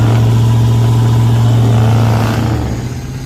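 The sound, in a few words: truck engine revving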